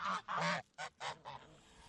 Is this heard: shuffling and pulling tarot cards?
no